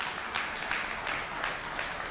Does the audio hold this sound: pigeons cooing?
no